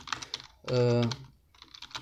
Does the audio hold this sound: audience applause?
no